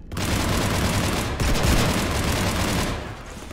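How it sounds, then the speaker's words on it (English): Sustained automatic gunfire from a Mass Effect 3 firefight aboard the Normandy, a dense continuous rattle of shots that runs loud for about three seconds, breaks briefly, then resumes before tapering off. "You want to stop shooting up my ship?"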